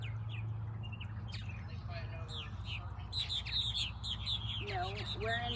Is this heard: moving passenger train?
no